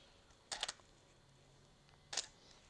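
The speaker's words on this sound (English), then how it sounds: "And then taking a picture." A Canon DSLR shutter fires twice with an off-camera Neewer TT560 speedlite, two crisp mechanical clicks about a second and a half apart in a quiet room.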